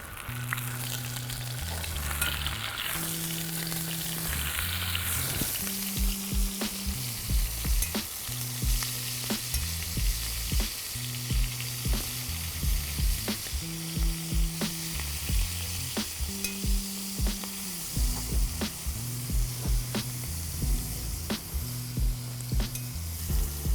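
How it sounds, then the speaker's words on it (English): Sliced halloumi cheese fries in oil in a pan with a strong, steady sizzle, punctuated by scattered pops and spits while a repeating melodic music track plays underneath. "we're going to start off by frying our HELIM. Oil into a pan."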